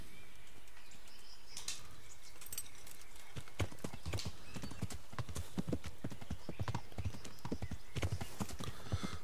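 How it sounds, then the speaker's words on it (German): Horse hooves clip-clop at a steady gallop-like rhythm in the medieval game Kingdom Come: Deliverance, beginning after a quiet stretch of outdoor ambience with faint birdsong and continuing close and prominent to the end. "dann rufe ich mal das Pferdchen und reiten wir mal hoch ins Lager"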